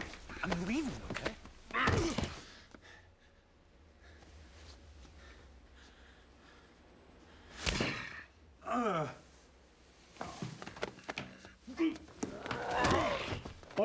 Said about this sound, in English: this head smash gave Adam Scott a concussion